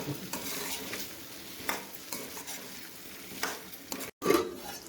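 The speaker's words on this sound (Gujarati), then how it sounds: "બટેકાને જે કટિંગ કરીને રાખ્યા હતા એને આપણે એની અંદર એડ કરી દઈશું." Cut potatoes sizzling in a pan of frying cauliflower for a Gujarati-style sabji, with a spoon stirring and scraping in soft repeated strokes and a short clatter near the end.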